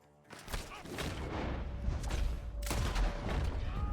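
Gunfire rings out from a barn during a chase, a sustained volley of booming shots and thuds at moderate distance, with voices shouting over the noise.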